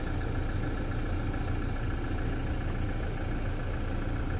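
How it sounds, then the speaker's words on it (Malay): Toyota Revo engine idling steadily, a low continuous rumble with even vibration that stays constant and fairly close throughout, with no talking over it. "Engine on."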